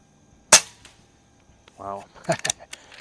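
One sharp, loud crack from an Air Venturi Avenger air rifle firing a pellet at a 50-yard target, followed by a brief voiced sound and a few faint clicks.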